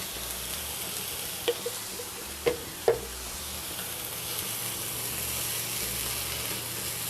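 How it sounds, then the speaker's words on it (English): Chopped onions and minced garlic sizzle in a hot pan, a steady hiss of frying with a few brief clinks and stirring knocks near the middle, no voices over it. "In goes our onions. Our aromatics are in. In goes the minced garlic."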